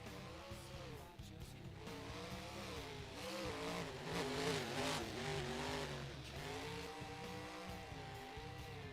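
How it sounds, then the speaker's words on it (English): Gravedigger monster truck on a qualifying pass around an arena track, a rough, fairly distant engine roar that rises and falls as it revs and turns. "Gravedigger back onto the track, second qualifying pass"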